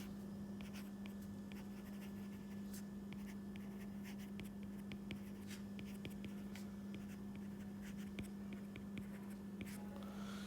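Marker writing on a board during a geometry lesson on an icosahedron, quick scratchy strokes in bursts over a constant low hum, with no talk.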